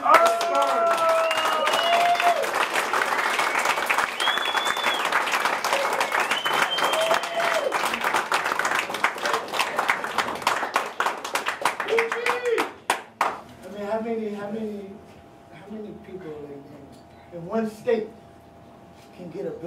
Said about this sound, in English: huge round of applause. Make some noise.